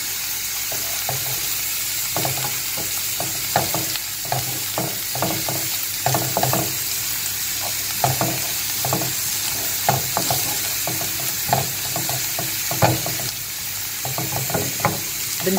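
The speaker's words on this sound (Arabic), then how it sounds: "كنزيدوا فيها القزبر معدنوس ديالنا في الاخر، وكنبقاو نحركوا واحد دقيقه ولا جوج وصافي" Swiss chard and beans simmer in a pot while a spoon stirs them with fresh coriander and parsley. Repeated close scraping strokes rise over a steady sizzling bubble and last the whole time.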